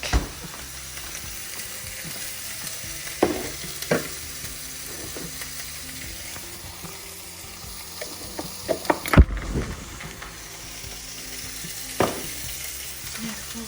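Garlic fries in a pan with a constant low sizzle, broken by occasional clinks and scrapes of stirring and a louder clatter partway through.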